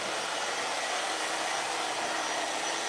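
A handheld blow dryer runs on high during a silk press, a loud, constant broadband whoosh that holds steady throughout with no talking.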